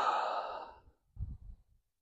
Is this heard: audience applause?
no